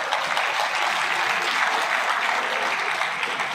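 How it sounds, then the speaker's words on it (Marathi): An audience at a road safety workshop at an ITI institute breaks into loud, sustained applause, dense and even clapping from many hands throughout. "जोरदार टाळ्या सगळ्यांना."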